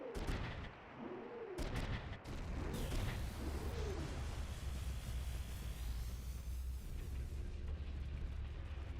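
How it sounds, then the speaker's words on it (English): An accidental explosion tears through a military base in Front Mission 3, a loud, sustained roar of deep rumbling blasts and crackling debris that stays heavy across the whole stretch. "Accidental explosion on the base"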